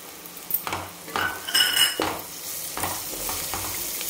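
Finely chopped onion stirred into a pan of roasting spices for a Marathi goat mutton curry, with a steady close sizzle broken by several louder scraping stirs and clinks of a spoon against the pan.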